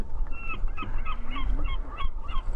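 Gulls calling out at sea near a fishing boat, several short yelping cries repeating through the clip over steady wind and engine rumble.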